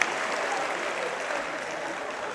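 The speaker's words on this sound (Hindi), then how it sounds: "उनके लिए जोरदार तालियां बजाकर" Hindi-speaking crowd at a community conference applauding loudly, a dense steady wash of clapping that fills the short span without pause.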